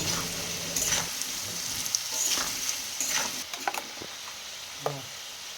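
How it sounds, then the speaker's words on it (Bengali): Potatoes tossed with salt and turmeric in a frying pan give a steady close sizzle, with scattered scraping strokes of a spatula stirring through the hot oil. "হলুদটা দিয়ে এবার আবারও নাড়াচাড়া করে নিচ্ছি ভালো করে"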